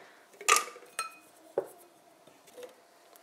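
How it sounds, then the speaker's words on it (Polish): Handful of tomatoes tumbling into a blender jug, giving a few sharp, close knocks and clinks against the container, the loudest first, then softer scattered taps in a quiet kitchen. "Do kielicha wrzucę pomidorki"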